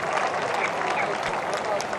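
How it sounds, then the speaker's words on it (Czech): Spectators at the 2019 Veľká Orešanská steeplechase horse race clapping before the start, a steady dense patter of applause from the crowd with a commentator talking over it. "Diváci tleskají už teď"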